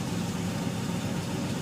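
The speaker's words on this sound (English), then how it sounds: "Right, the engine's now running, we're connected up." A Triumph TR5 engine idling with test equipment connected, a steady, continuous low rumble that holds even throughout without revving.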